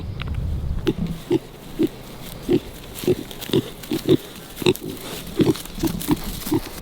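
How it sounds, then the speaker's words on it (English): A breeder pig on pasture grunting in a steady series of short, fairly loud grunts close by, about a dozen spaced evenly with no talk. "That is probably our breeder pig right there"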